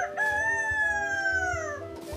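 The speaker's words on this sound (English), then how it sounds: "Imagine waking to the crow of roosters" A rooster crows once, a loud, close, drawn-out cock-a-doodle-doo lasting about two seconds.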